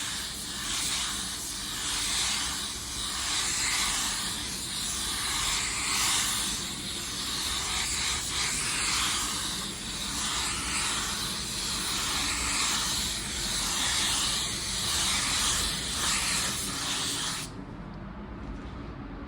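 Spray gun at about 25 PSI laying a wet coat of automotive clear coat, a loud continuous close hiss with gentle rhythmic swells from each pass, stopping abruptly near the end.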